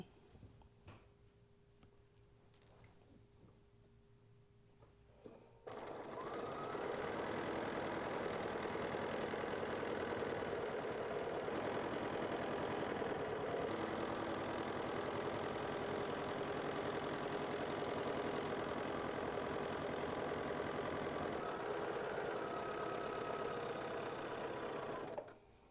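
A sewing machine stitches a quilt border seam in one long, steady, continuous run that starts after a few seconds of quiet and stops near the end.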